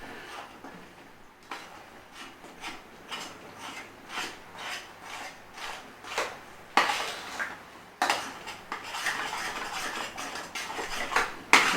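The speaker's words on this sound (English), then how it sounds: "Give it a stir and bring it all together." A spoon scrapes and clinks around a pan as Chinese curry paste is stirred, a steady run of rhythmic scraping strokes that grows louder and busier toward the end.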